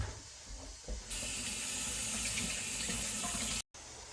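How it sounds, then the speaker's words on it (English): Tap water running into a kitchen sink for hand washing during home canning, a steady close gush that starts after a second and cuts off abruptly near the end. "I gotta wash my hands real quick now."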